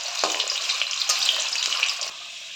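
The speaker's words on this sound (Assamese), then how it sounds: "তেল গৰম হৈ গৈছে এতিয়া দিম আলু কেইটামান আলু দিম আলুখিনি ভালদৰে ভাজি ল'ম" Potatoes frying in hot oil in a pan while chicken masala is being made give a brief, steady crackling sizzle, close and even throughout.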